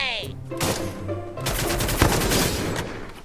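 Rapid gunfire in a video game, loud bursts of shots fired close up, building into a dense, sustained volley over the final two seconds.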